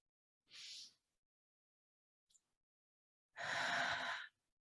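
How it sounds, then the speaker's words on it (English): Two long breaths at close range in an otherwise silent space: a short airy one first, then after a pause a deep full inhalation lasting about a second, with no talking. "breathe in with me"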